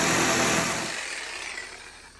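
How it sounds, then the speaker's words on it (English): A reciprocating saw bites into a mobile home bedroom floor, a loud buzzing rasp at first that tapers off as the cut slows and fades. "Just use a sawzall"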